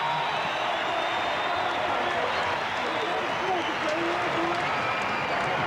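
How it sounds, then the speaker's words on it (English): A baseball crowd at a St. Louis Cardinals home game against the Atlanta Braves applauds Gerald Perry, a dense, steady wash of clapping and crowd noise that holds at an even level throughout. "listen to the applause for Gerald Perry"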